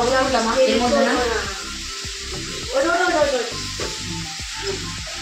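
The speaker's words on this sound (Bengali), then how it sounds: "ও আলু ভাজছে" Potatoes sizzle and crackle in hot oil with a steady frying hiss, while someone talks over the cooking.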